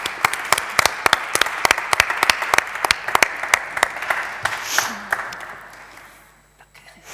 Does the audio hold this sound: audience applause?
yes